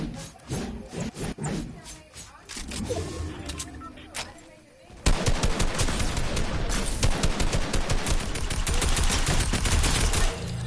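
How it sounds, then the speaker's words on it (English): Rapid video-game gunfire from Call of Duty Warzone, a Dragon's Breath shotgun among the shots, with dense bursts of loud cracks that grow into a sustained barrage in the second half, mixed with game sounds and some talk. "Bro, I got a Dragon Breath shotgun."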